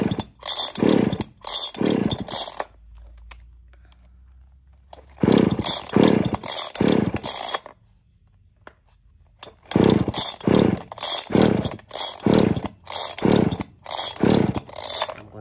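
A used Japanese chainsaw cutting a wooden log about 20 to 25 cm across roars in three loud bursts of pulsing, revving engine noise, separated by quieter idle gaps, close to the listener.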